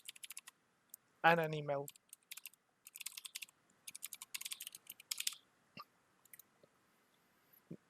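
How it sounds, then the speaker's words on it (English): Keys tapped on a computer keyboard while entering a password, a scattered run of light clicks in short bursts, with a brief voiced sound and a short spoken phrase near the start. "Now type a password"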